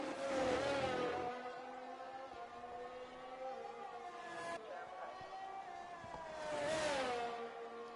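Engine of an F1 car in a racing video game at the Hungarian GP, a high, clear whine that rises and falls with two revving peaks at the start and near the end, sounding steadily beneath the game audio.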